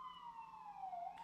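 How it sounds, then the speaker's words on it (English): An emergency siren wails outside, its faint, steady tone gliding slowly downward in pitch throughout one brief stretch, heard from a distance with nothing else over it. "Sorry about the sirens, guys."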